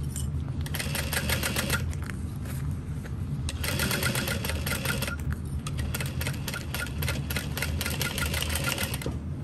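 A sewing machine stitching through layers of a mini backpack, rapid close mechanical stitching in bursts with brief pauses between runs.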